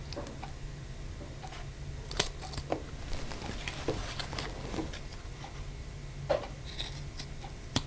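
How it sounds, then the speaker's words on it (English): Scissors snip through the zipper ends of a handmade fabric coin purse, a series of faint, sparse cuts and clicks close up in a quiet room, with no talking. "now I need to trim the zipper ends. So we're just going to cut those off flush with the sides."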